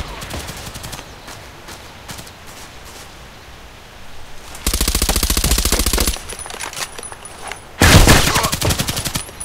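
A starter gun in the shooter game Contract Wars fires in two sustained automatic bursts, loud and rapid, each lasting over a second, after a quieter stretch of scattered shots.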